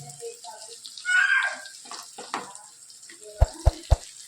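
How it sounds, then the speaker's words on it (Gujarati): Water poured into a potato curry, a brief gushing splash followed by a few stirring sounds and three quick taps of a spoon on the pot rim. "પાણી આપણે સારું એવું નાખીશું."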